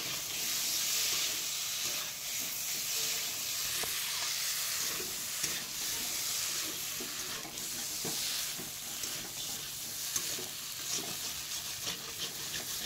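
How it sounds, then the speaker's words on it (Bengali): Moringa drumstick pieces and potatoes sauté in oil in a pan for a thin Bengali fish curry, giving a steady, close frying sizzle throughout with occasional stirring scrapes and clicks, and no voices. "এবার সজনে ডাঁটাগুলো দিয়ে দিচ্ছি, দিয়ে আর কিছুক্ষণ কষাবো"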